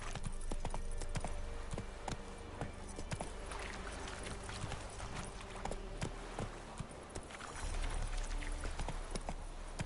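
Roach, a horse in the Witcher 3 video game, gallops with rapid, rhythmic hoof clip-clops that stay steady and loud across the whole stretch over a constant bed of game ambience.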